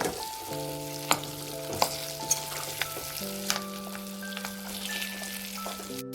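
Stuffed capsicum dry curry sizzling and frying in a pan while being stirred, a steady crackling fry broken by several sharp spatula scrapes and knocks against the pan, with no voices.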